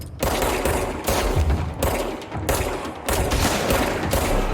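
Rapid shotgun blasts and gunfire in the video game Control, loud and close, in several dense bursts separated by brief pauses, with heavy low-end booms.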